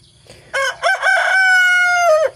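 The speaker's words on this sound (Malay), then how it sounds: "Dia baru nak belajar berkokok." A young, immature rooster in a backyard coop crows close by. Its short, broken opening notes give way to one long, shrill, wavering note, and faint clucking from other fowl comes before and after it.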